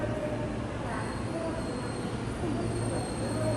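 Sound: train riding on the rails in Japan

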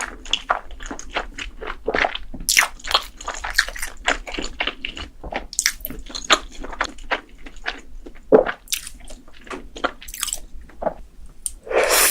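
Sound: chewing and biting corn cheese, mukbang eating sounds

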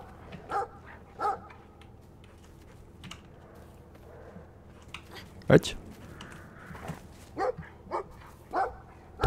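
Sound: dog barking and growling in video game Brothers

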